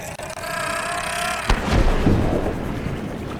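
An explosion in the video game Subnautica: a sharp, heavy blast bursts out midway, followed by a rumbling boom that rolls on and fades over a steady electronic hum.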